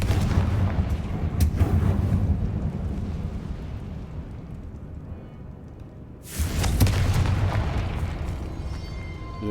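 Repeated booming fire-spell blasts in Hogwarts Legacy, loud and dense, with a rumbling burst early on, a quieter stretch, then a fresh heavy explosion near the end.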